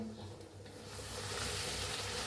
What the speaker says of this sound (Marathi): छान अशा तळल्या त्या पुऱ्या